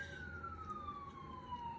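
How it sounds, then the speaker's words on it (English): An emergency vehicle siren sweeps steadily downward in pitch as it passes at moderate distance, a continuous wail over low road rumble with no talking. "let that siren go by"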